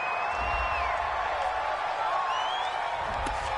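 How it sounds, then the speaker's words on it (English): A home crowd at a televised football game roars and cheers, a dense, sustained mass of voices with whoops and whistles rising above it, filling the whole stretch with no commentary over it. "This home crowd, they're happy with that call."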